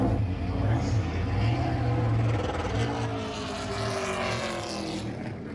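A pro late model race car pulls away at a short track, its engine roaring and rising in pitch as it accelerates past, loud and close with some crowd noise around it.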